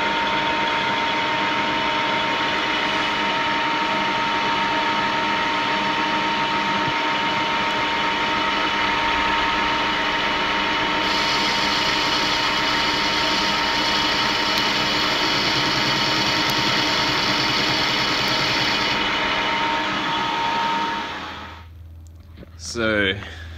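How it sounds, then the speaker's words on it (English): A lathe cuts material off an ATI crank pulley being modified for an SR20VE engine build, giving a steady machine whine and hum with a sustained tone that runs unbroken for about twenty seconds before winding down near the end. "used the lathe to cut some of the material off"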